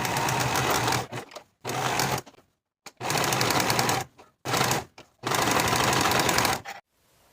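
A sewing machine topstitches jumper pocket pieces in several quick bursts of rapid stitching, each a second or two long and separated by short pauses, fairly close and clear.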